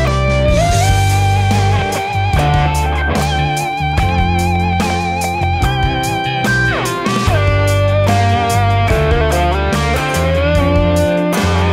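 Electric guitar playing a four-chord triad progression with a little extra gain over a full backing band of bass and drums, the chord changes ringing out loud and steady throughout, with no speech.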